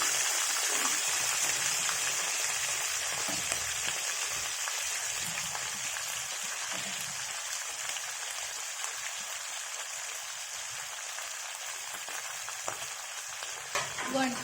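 Brinjals that were soaked in water sizzle in a hot pan: a loud, steady frying hiss with a few stirring clicks and scrapes, close up and continuous, with no talking.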